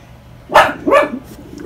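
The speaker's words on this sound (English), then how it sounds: "Quit barking." A pet dog indoors barks twice in quick succession at a pair of mallard ducks in the front yard, sharp and fairly close, with a quiet room behind.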